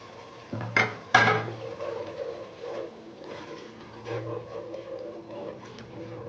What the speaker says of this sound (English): I'll then cover the pot and allow it to fry for about 2 to 3 minutes.